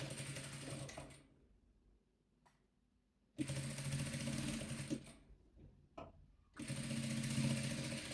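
Sewing machine stitching white patchwork fabric, running in three loud, steady mechanical bursts, close by, separated by quiet pauses with faint handling noises.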